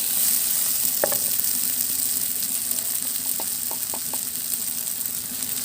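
Night jasmine flowers fry in hot oil with a steady, even sizzle from start to finish, broken by a few faint clicks and taps from a utensil.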